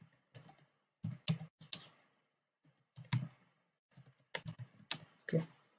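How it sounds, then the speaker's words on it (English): Quick bursts of clicky keystrokes on a computer keyboard come in short clusters with brief pauses between them, close and clear, with no talking. "I'm going to type Tube"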